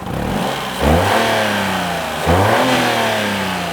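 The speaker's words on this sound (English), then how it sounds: "the same thrummy three-cylinder noise" A small three-cylinder car engine with a throttle cable revs up twice in quick succession, a loud, thrummy, close-up rise and fall in pitch, with no talking.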